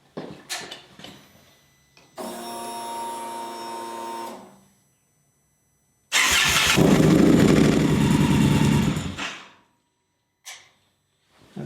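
An Indian Scout motorcycle engine, just refilled with fresh oil, cranks and catches, idles briefly, cuts out, then restarts and runs loud and close for a few seconds before shutting off again.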